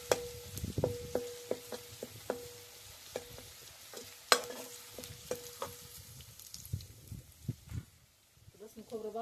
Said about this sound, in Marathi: तेलात चांगलं तळून घ्यायचं.